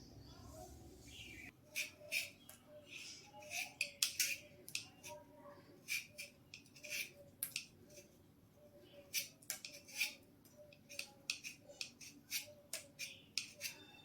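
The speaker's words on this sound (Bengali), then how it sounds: "আমি এবার আলু কেটে নিচ্ছি" Potatoes being cut with a knife for a jackfruit and prawn curry, giving close, sharp, repeated chopping clicks in an uneven steady rhythm over a quiet kitchen background.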